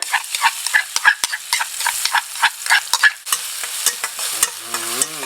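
Pounded Thai curry paste sizzles and crackles in hot oil with repeated stirring scrapes, loud and close, ending in a brief squeaky tone.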